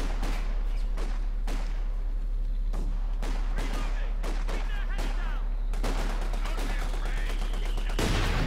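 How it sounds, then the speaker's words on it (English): Mortar shells and gunfire in a Company of Heroes 2 match, with repeated sharp blasts and crackling shots in an intense battle mix, loud and near throughout. "He was leaving cover right as that mortar shell hit."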